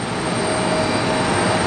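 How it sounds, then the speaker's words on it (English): A jet aircraft engine at LGA airport during a heavy rainstorm winds down as it shuts off, a loud steady broadband roar with a faint whine, close by and without speech. "There goes one engine being shut down."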